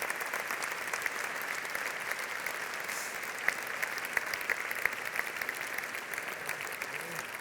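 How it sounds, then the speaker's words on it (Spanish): Audience applause for the workers at a 50th-anniversary gala of the DFA foundation, steady clapping throughout with a few sharper claps standing out and faint voices underneath. "un aplauso para los trabajadores"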